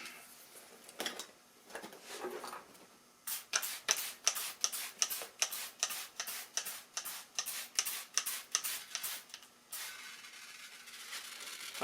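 Faint bubbling and soft ticking from air leaking through soapy spray on a flat lawnmower tire, a quick regular series of small pops in the middle with quiet hiss before and after.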